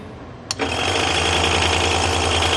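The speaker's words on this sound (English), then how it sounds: "So here I'm going to start my machine." A scroll saw switches on with a sharp click, then runs with a loud, steady mechanical buzz and hum that continues evenly, close by and with no voices.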